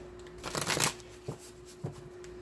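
Cards from an oracle deck are shuffled in one rapid riffling burst, followed by two short soft taps as the deck is squared, heard close up and alone.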